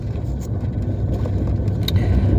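A car driving on a winter road, with a steady low rumble of engine and road noise filling the cabin and no talk.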